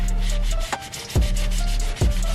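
A rag rubs and wipes with alcohol along the back of an Infiniti Q50 Sport front grille chrome trim, close, rhythmic scrubbing strokes with periodic harder swipes over a low steady hum.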